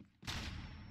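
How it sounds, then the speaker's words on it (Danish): A flashbang grenade detonates in Rainbow Six Siege, a sudden loud burst after a brief quiet moment, followed by a sustained high ringing tone that lingers to the end. "Flashbang."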